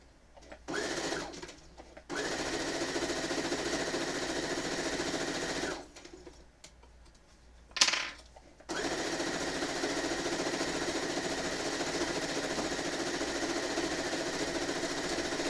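Sewing machine stitching through a stack of dice-bag fabric pieces in long steady whirring runs, broken by short pauses and a brief clack before sewing resumes, close and loud.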